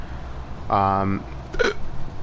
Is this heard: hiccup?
yes